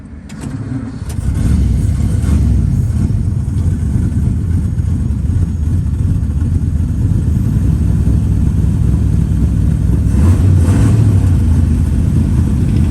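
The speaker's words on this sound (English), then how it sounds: "turn the key on like that, and the car will actually start itself" A 1933 Auburn car engine starts from a key turn and settles into a steady, loud low idle that runs continuously close by, with no talking over it.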